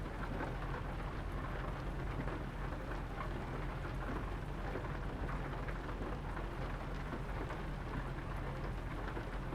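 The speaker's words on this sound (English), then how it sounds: "it looks like it's starting to rain a little bit heavier" Heavy rain and rolling thunder surround a truck on the road in American Truck Simulator, with a thick, constant downpour over a low booming rumble that carries on throughout.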